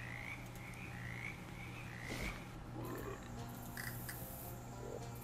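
Repeated croaking of a frog in the video game Shadows Over Loathing, a series of short rising calls spread through the first few seconds over a steady low game hum, with other faint effects later.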